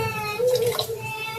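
Running water rinses chopped bitter gourd in a home kitchen, a steady close splashing wash lasting about a second and a half.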